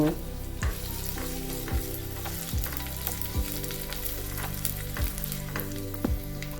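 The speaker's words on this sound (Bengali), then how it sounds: "এবারে কিশমিশগুলো হালকা করে ভেজে তুলে নেব।" Raisins lightly frying in ghee give a steady close sizzle, with regular stirring scrapes and taps of a spoon against the pan about once a second, and no voices.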